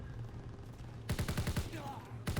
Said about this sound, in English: I'm going to shoot a couple of the soldiers first